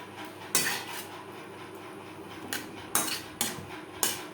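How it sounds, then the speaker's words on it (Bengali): Boiled potatoes with spices are stirred in a metal cooking pan, a spoon scraping and clinking against the pan in five or six sharp, close knocks over a quiet background. "মশলার সাথে আলু বেশ ভালো করে মিক্স করে দেবো"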